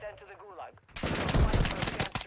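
Gunfire in Call of Duty in single-fire mode: after a short stretch of talk, loud sharp shots crack out in quick succession, dense and close, filling the rest of the moment.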